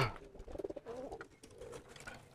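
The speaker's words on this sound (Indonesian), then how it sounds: "Nah ini kan masih suka blekur-blekur juga nih teman-teman merpati posnya." Homing pigeons being trained for racing coo in a soft, repeated burbling run, fairly close and mid-level in loudness, with no talking over the calls.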